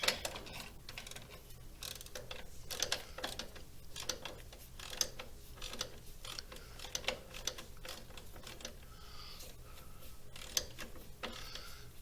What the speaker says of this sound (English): Whenever you put a ratchet spanner in, you've always got it the ratchet the wrong way.